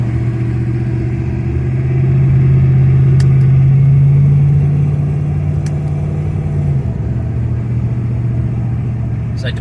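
An HSV VZ car with an E40 engine and 6L80 automatic gearbox rolls on after the brake is released, giving a steady low engine drone that swells slightly and then eases, close and continuous.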